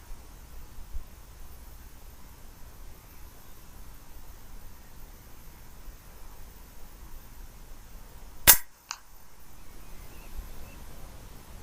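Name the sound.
FX Impact M3 air rifle shot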